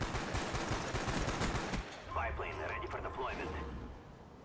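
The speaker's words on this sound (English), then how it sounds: "What are you firing again? M14 single fire assault rifle." Rapid M14 single-fire assault rifle shots in Black Ops on Wii ring out in a quick burst, then a player talks as the firing fades.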